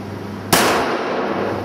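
A single pistol shot from a Smith & Wesson M&P 9L during shooting practice: one loud, sharp crack with a long ringing tail over a steady background hum, and no voices.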